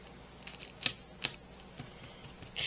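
A knife cuts through raisin bar dough on a cookie sheet, giving a few soft, quiet taps and two sharper clicks as the blade meets the sheet.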